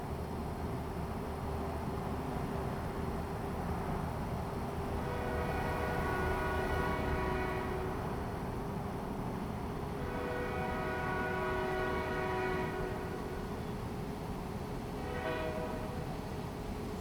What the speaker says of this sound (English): Loud ass train.